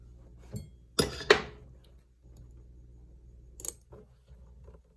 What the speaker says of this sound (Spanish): Vamos a tomar nuestras tijeras.